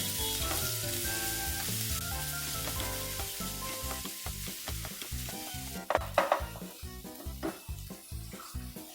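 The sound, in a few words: sautéing green chili, coriander, ginger, garlic paste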